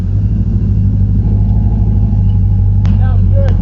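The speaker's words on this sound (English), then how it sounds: "I just put a new exhaust on it. It's definitely loud now." A car engine idles with a deep, loud rumbling from a newly fitted exhaust, while a person speaks briefly near the end.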